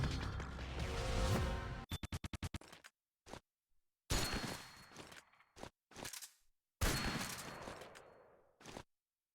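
Video game gunfire in Metal Gear Solid Touch: sharp, loud bursts and a quick rattling string of shots, separated by abrupt silent gaps, with no talking.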